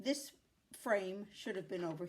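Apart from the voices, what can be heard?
None of the usual background noises is heard.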